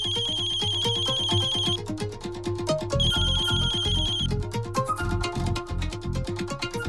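A melodic phone ringtone plays loudly with a repeating rhythmic pattern and high bright tones, continuing without any talking.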